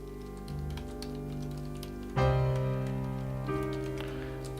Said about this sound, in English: I'm just typing a message in the IRC